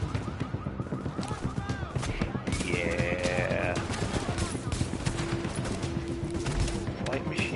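Heavy gunfire in The Division's Grand Central Station mission: dense bursts of rapid shots and machine-gun fire fill the scene, with a siren-like whine in the middle and a voice speaking over it.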